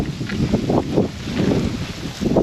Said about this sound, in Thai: ดูลมพัดหิมะเข้ามาโอ้โหหนักมาก